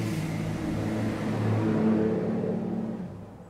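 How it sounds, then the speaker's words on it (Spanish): Trucks pass by outside with a steady low engine rumble and droning hum that swells slightly, then fades away toward the end. "Amo esos ruidos de los camiones."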